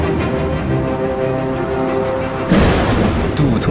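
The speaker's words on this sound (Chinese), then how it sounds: "暴雨如期而至" A heavy rainstorm pours onto freshly harvested farmland as a dense, steady hiss that swells louder about two-thirds of the way through, with no voices.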